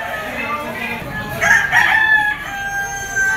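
A yellow-legged fighting rooster offered for sale at a gamecock market in Lipa, Batangas crows once loudly and close, with murmuring voices and other birds in the background.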